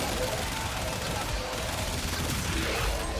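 A continuous barrage of gunfire in the video game Warframe, loud and dense with overlapping shots and a constant rumble underneath.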